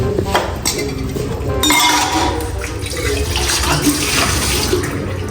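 Dishes washed under a running tap of cold water, with a steady flow of water and repeated clinks of pots, plates and cutlery, close and fairly loud.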